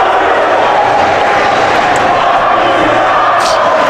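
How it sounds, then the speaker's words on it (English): A hockey crowd at a Mountaineer home game against Duquesne jeers and cheers the Duquesne goalie after he gives up two tying goals, a loud continuous roar of many voices. "the Mountaineer crowd is letting the goalie know that he just gave up 2 crucial goals to tie this game up"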